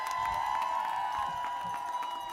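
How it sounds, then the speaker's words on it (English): Audience at a Supreme Court oral arguments event cheering and applauding, a dense continuous crowd roar with scattered whoops, heard fairly distant and moderate in level. "let's give another amazing round of applause to Cecilia Wong"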